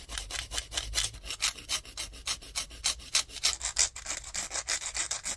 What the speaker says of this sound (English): I'm going to go in with my nail file to file the sides and the tip of the nail